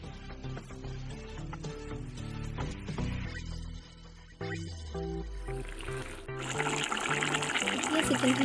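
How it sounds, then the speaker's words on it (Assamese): Hot boiled water poured onto fried chicken in a pan for an Assamese-style chicken curry, a rising liquid rush and bubbling splash that grows louder toward the end, with clinks and background music throughout. "চিকেনখিনি ভালদৰে ভজা হোৱাৰ পিছত মই ইয়াতে দি দিছোঁ উতলাই ৰখা গৰম পানী।"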